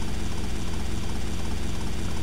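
The Sea Sparrow helicopter in GTA Vice City drones with a steady, dense rotor and engine roar, loud and unbroken, with no talk over it.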